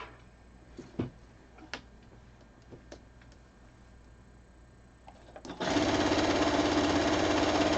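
A sewing machine stitches binding onto a quilt, starting after a few soft handling clicks and taps, then running as a loud, fast, continuous mechanical whir up close until the end.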